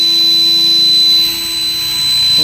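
A battery-powered turbo air blower runs at full power, producing a loud, continuous high whine and rushing roar that dips slightly midway, then steadies again.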